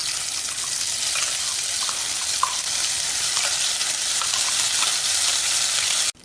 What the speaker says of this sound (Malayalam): 2-3 ഗ്രാമ്പു, 2 ചെറിയ കഷ്ണം കറുവപ്പട്ട ഇതെല്ലാം ഇട്ടിട്ട് ഫ്രൈ ചെയ്യാം.